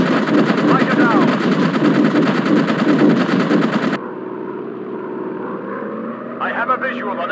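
Rapid aircraft machine gun fire from a WW1 fighter plane in the video game Warplanes rattles loudly and continuously for about four seconds, then cuts to a lower, steady engine drone with a brief burst of noise near the end.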